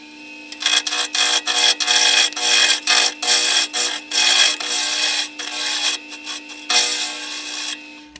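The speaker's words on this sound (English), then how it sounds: "now I'm going to use a bowl gouge to establish a tenon" A bowl gouge shaping a tenon on a wooden acorn lidded box spinning on a lathe gives a loud, steady, close cutting whine that rises and falls with each pass.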